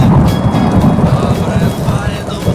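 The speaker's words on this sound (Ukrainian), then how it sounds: "Гроза була настільки сильною, що деякі намети залило водою" Heavy thunderstorm rain pours down on an archaeological expedition camp with a constant loud hiss and a low rumbling undertone, close by, with no voices.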